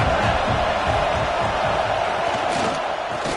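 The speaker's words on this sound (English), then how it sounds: "The tide crowd rolling noise down onto Saban Field on third down." A football stadium crowd at Saban Field in a Bulldogs versus Alabama game roars on third down, a loud, continuous wall of noise holding steady throughout.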